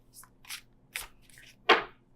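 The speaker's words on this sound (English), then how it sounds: "I've been shuffling" Tarot cards being shuffled by hand in a quiet room: four short papery riffling bursts spaced about half a second apart, the last one the loudest and sharpest.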